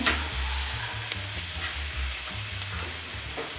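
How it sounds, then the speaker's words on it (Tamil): Cumin seeds sizzle and crackle in hot oil in a kadai, a steady frying hiss with scattered small pops and stirring, no voices over it. "எண்ணெய் ஊற்றினோன்னு சீரகம் முதல்ல போட்டுக்கோங்க"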